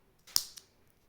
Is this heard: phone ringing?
no